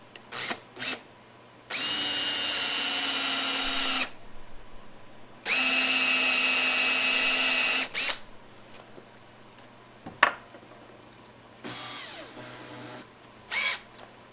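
A power drill drives a big screw into a wooden dowel to lock a fish-shaped door handle for a sauna door, two sustained whirring bursts of a couple of seconds each, with quiet handling clicks and knocks between and after.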